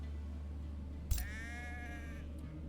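A single sheep bleats in Age of Wonders 4, one clear wavering call over a low steady hum after a soft click, fairly quiet overall.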